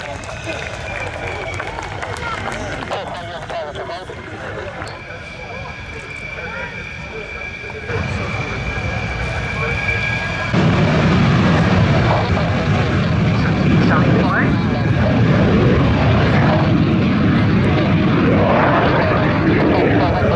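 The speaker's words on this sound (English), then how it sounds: "First example touching down on a spot of aerodynamic braking, keeping the nose high" Dassault Rafale Marine naval jets touching down at an air show, a loud roaring engine noise that swells and thickens midway, with a commentator talking over it.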